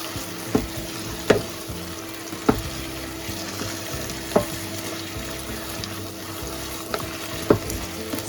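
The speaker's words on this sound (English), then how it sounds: "Stir fry over high heat." Bok choy with mushrooms and sliced garlic stir-fried over high heat, giving a steady close sizzle with sharp spatula scrapes and clacks against the wok about every second or two.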